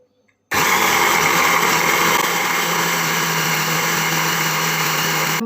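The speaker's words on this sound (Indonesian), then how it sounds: "Jadi aku ini blender lagi." A kitchen blender grinding meat with water for bakso meatballs starts abruptly and runs at a loud, constant high whine with no pauses, close to the microphone.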